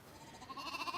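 Seaweed-eating ewes of an old island breed bleating on a remote farm, a single drawn-out wavering bleat, moderately close and alone.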